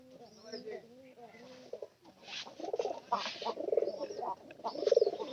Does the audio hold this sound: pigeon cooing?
yes